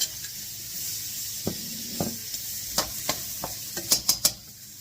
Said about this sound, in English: chuck in some butter and some onions and cook those off